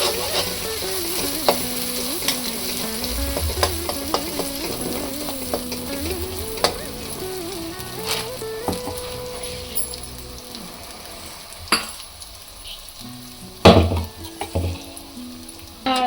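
Masala frying in a little oil over a medium flame for a no-onion, no-garlic vegetable saagu, a steady soft sizzle with irregular scraping stir strokes and a few sharper clatters near the end.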